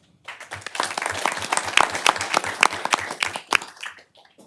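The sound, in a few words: audience applause for award recipients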